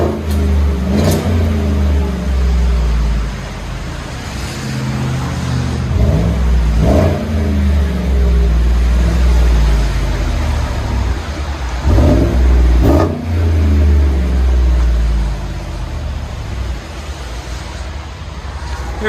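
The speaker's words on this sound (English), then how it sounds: "It's a nice deep tone." A Chevy Silverado with a 5.3L V8 and Borla exhaust revs repeatedly, a close, loud, deep engine roar rising and falling in several bursts over a steady idle rumble.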